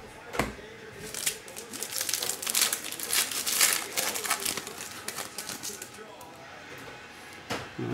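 Foil wrapper of a 2012 Panini Prizm baseball hobby card pack being torn open, a run of close, crisp crinkles and sharp tearing bursts lasting several seconds, with a voice speaking alongside.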